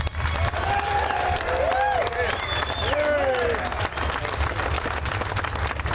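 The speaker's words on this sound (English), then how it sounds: "Please join me in giving him a warm round of applause" A rally crowd applauds Representative Josh Burns of the Iowa legislature at opening ceremonies, sustained clapping spread across a large audience, with voices and whoops rising over it in the middle of the clip.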